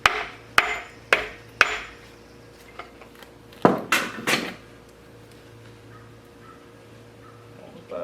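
A hammer striking old engine parts during a teardown, giving sharp metallic blows. Three come in quick succession, then a few more after a pause, against a quiet workshop background.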